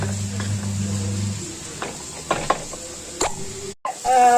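Onions and green chillies sauté in a pan until brown, giving a soft, low sizzle with scattered scrapes and taps of stirring and a steady hum at the start.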